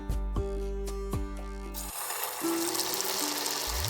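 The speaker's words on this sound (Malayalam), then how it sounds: "വെളിച്ചെണ്ണ നന്നായി ചൂടായി വന്നിട്ടുണ്ട് ഇനി നമുക്ക് ഇതിലേക്ക് ഓരോന്നിട്ടിട്ടൊന്ന് ഫ്രൈ ചെയ്തെടുക്കാം" Egg and bread snacks drop into hot coconut oil. A steady, broad frying sizzle takes over partway through and continues to the end, following a brief tonal, musical passage at the start.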